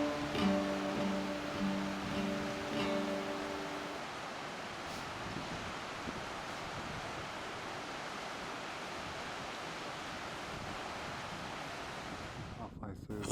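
Steady broadband roar of a waterfall in the Altai Mountains, a constant rushing wash heard from nearby, with some low tonal humming in the first few seconds and faint wind buffeting.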